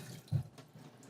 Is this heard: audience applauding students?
no